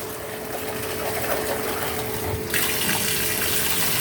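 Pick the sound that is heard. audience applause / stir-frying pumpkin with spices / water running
water running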